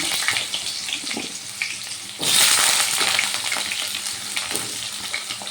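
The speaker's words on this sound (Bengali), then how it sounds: "এবার আলুগুলো ভালো করে ভেজে নেব" Potato pieces fry in hot oil tempered with cumin, a bright steady sizzle that surges loudly as they hit the pan, then settles into continuous crackling with occasional stirring scrapes.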